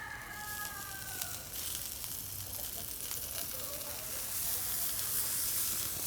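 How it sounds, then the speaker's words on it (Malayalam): Coconut oil poured over fish on a grill hisses in a broad, steady sizzle that grows louder toward the end. A rooster crows faintly in the background early on. "അവിടെയും കൂടി നമുക്ക് ഈ വെളിച്ചെണ്ണ ഇങ്ങനെ ഒഴിച്ചു കൊടുക്കട്ടോ"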